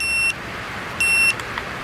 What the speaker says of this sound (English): It's below the 29 PSI mark, and we've got an alarm.